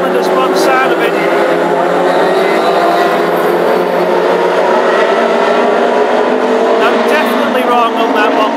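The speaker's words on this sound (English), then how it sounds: "That certainly is a car running on 3 cylinders by the sound of it." A classic hot rod race car runs on three cylinders at a Hednesford raceway, its rough, uneven engine drone continuous and loud throughout, with a commentator talking over it.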